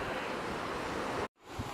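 Waves wash continuously on a beach in Menorca, a broad, steady surf roar mixed with wind, cut by a brief dropout near the end before returning more softly.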